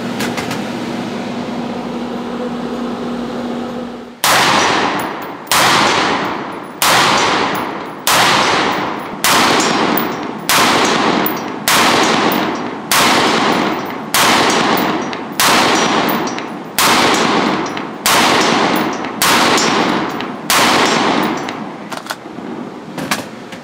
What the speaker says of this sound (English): we're shooting a 6 mag firing schedule. That's 6 mags as fast as you can practically aim and shoot the trigger